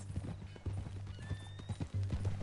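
A horse in Red Dead Redemption 2 clip-clops along at a steady walk with hoofbeats close up, over low ambient game sound with a faint whistle-like tone.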